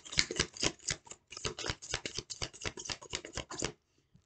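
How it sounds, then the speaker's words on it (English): Oracle cards being shuffled by hand, a rapid run of crisp papery riffling clicks in quick steady rhythm lasting several seconds, close and clear, then stopping abruptly into near silence. "I'm gonna speak while I'm shuffling."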